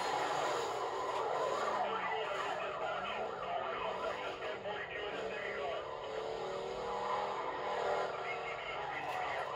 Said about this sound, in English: I love the sound of this car